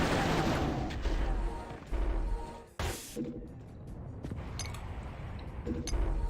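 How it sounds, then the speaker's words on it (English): Big explosion in a Doom roguelike game: heavy, loud blasts and gunfire-like bursts crash in close succession, with a sharp cutoff near the middle followed by more rumbling booms. "That sounded like a big explosion."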